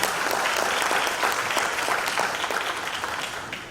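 A crowd at a university development plan presentation applauds steadily with dense, continuous clapping that slowly tapers off toward the end.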